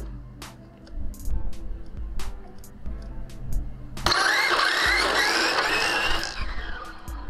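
An RC street eliminator drag car with a Nova body and a cap pack fires up with a few short whirs and bursts. Then it launches into a loud, harsh, high-pitched electric whine and tire noise that lasts about three seconds before fading.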